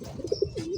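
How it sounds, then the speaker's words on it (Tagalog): Racing pigeons coo softly in the background, a brief run of low throaty coos and a faint chirp, with no talk. "Tapat mo dyan sa mga background kalapati na."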